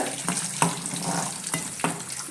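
Fried shallots poured hot into simmering fish curry with cucumber, a close bubbling sizzle and splash with a few sharp clinks of a utensil, no talking.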